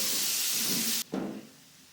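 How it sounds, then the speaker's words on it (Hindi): Small boneless chicken cubes dropped into a hot pan, a loud steady sizzling hiss that cuts off abruptly, then a short burst of fresh spitting that fades to a quieter fry. "चिकन का कलर चेंज होने तक इसको हम भून लेंगे"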